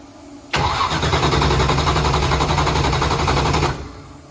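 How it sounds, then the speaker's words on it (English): A Chevy Blazer's Texas Speed supercharged engine with big turbos turns over on the starter alone for about three seconds, a loud, steady, rapid mechanical churning that starts abruptly and cuts off without firing. "So, all right, I'll run it on the starter for a sec."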